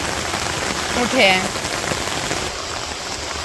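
Steady rain patters on a village rooftop, dense and close, while someone stands out in it with an umbrella; a single brief spoken word cuts in near the middle.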